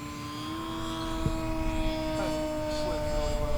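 A Hangar 9 OV-10 Bronco 30cc RC model airplane flies a touch-and-go pass, its gas engine droning steadily at a moderate distance with the pitch shifting slightly as it moves, heard over background hum and voices.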